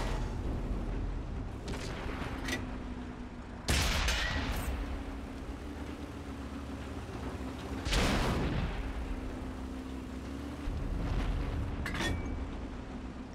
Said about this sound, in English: These enemies just cannot find a way through the upper part of my tank. I am blocking a lot of shots here.